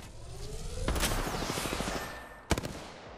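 Apex Legends gunfire comes as a fast rattling burst of shots, dies back, then returns as a short loud burst near the end, with game effects in between.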